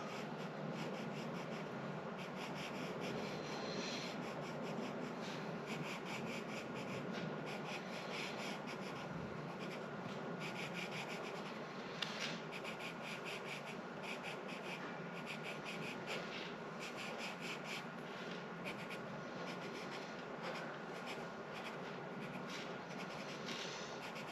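Steady scratchy HB pencil strokes on paper, continuous and close, with a soft rhythmic rasp and no talking.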